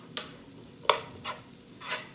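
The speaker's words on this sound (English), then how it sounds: "then we're going to cook the onions until they're translucent." Onions and garlic cooking in a pan for a tofu scramble, heard as a faint low sizzle broken by a few brief scraping stirs, no voices.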